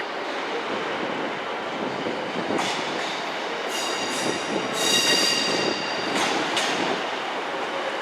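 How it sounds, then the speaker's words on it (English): A ScotRail Class 156 diesel train rumbles past steadily at Glasgow Central station with a broad roar, wheels giving occasional high squeals and clicks, fairly close and continuous. "here is also a ScotRail class 156, and this one is going to Kilmarnock."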